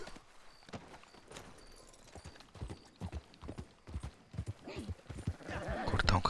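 Horse hooves clip-clopping in the Red Dead Online video game, a steady walking rhythm of close, distinct hoof strikes running throughout, with occasional background game sounds and a brief whinny-like rise near the end.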